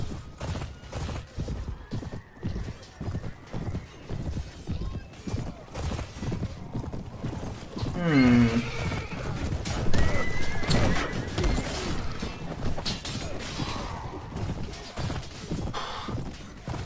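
Horses in a Mount & Blade Warband mod battle, with clip-clopping hooves and a loud whinny partway through, over busy battlefield noise and occasional voices.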